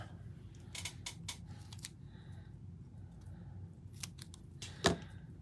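Several short crisp snips of small scissors cutting paper, clustered in quick bursts with pauses between, close by over a low steady background hum.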